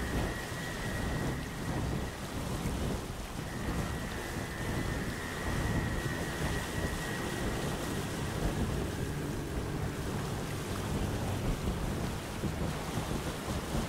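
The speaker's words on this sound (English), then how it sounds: "the ever-raging storm that surrounds the islands" An ever-raging storm around islands in the Windbound video game: steady heavy rain with rumbling thunder and wind, continuous and enveloping throughout, with no voices.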